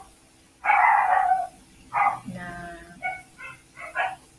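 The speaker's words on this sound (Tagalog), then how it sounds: "Sorry po sa aso ng kapitbahay." A neighbour's dog barks in loud, close bursts, one long bark followed by a string of shorter yips and whimpering barks in uneven rhythm, with faint background sound between them.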